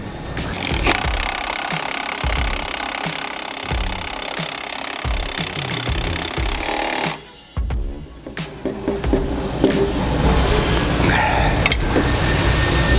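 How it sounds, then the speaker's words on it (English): Bolts are tightened on a KAGE 8000 Series under-hitch mounted on a John Deere 4066R compact tractor, with loud rattling, hammering power-tool bursts close by, a short pause, then more uneven clanking. "I'm just going to tighten these bolts up."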